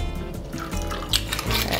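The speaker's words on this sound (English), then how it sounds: "you just fill everybody's cocktail glasses with ice and pour it over ice." A blueberry mojito is poured into cocktail glasses packed with ice, giving a brief liquid splash and trickle with a couple of sharper bursts, close and moderately loud.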